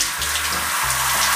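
Shower water runs in a steady, loud hiss, with a low gurgling hum of plumbing beneath it and no voices.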